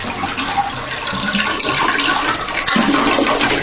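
Toilet flushed to drain its tank before a ballcock replacement, a loud close rush of swirling water that surges again near the end, with no talking.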